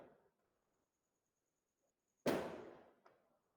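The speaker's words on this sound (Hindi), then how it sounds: "पटाखे कौन फोड़ रहा है?" A single sharp firecracker burst with a decaying tail, followed by a smaller pop about a second later, heard distant and alone against near silence.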